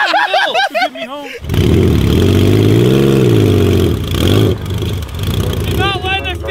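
A Honda three-wheeler engine, its air filter wet, runs loud and uneven with sputtering rises and dips, after a moment of people talking and with voices returning at the end.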